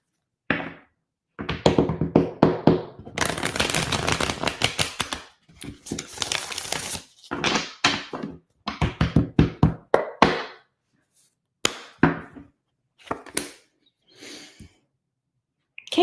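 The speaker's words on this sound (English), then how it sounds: "One more shuffle." Tarot cards are shuffled in bursts of rapid riffling and tapping, separated by short pauses, close and fairly loud with occasional soft knocks and breaths between shuffles.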